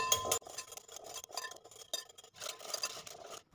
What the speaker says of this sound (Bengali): একটি হ্যান্ড উইক্সের সাহায্যে টক দইটাকে খুব ভালো করে আমি একটু ফেটিয়ে নিচ্ছি